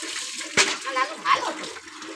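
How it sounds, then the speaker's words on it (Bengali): Water splashing and pouring close by as a young boy is bathed, in short bursts of splashes with a louder splash near the middle. "লালো ভদ্র ছেলের মতো স্নান কর"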